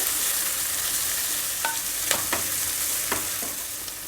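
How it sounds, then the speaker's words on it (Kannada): Onions and frozen peas fry in hot oil with a constant close sizzle, while a spoon scrapes through the pan a few times in short strokes. "ಈರುಳ್ಳಿ ಸಾಕಷ್ಟು ಫ್ರೈ ಆಗಿದೆ ಈರುಳ್ಳಿ ಬಟಾಣಿ ಎರಡು ಚೆನ್ನಾಗಿ ಬೆಂದಿದೆ"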